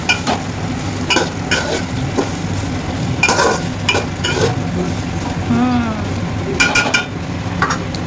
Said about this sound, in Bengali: ভাতটাকে ওই হাঁড়িটাতে একটু নাড়ালে মনে হয় নেড়ে নিতে হবে